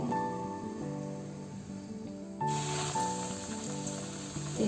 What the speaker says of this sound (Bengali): আর এবার এটাকে ডিপ ফ্রাই করে ভেজে ফেলবো।